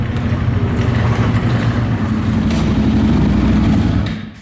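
A dirt bike engine drawing near, its steady loud mid-range drone holding constant over several seconds before cutting off abruptly at the end.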